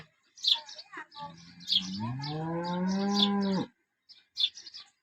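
A cow moos in one long, loud, drawn-out call, with sharp bird chirps scattered before and after it.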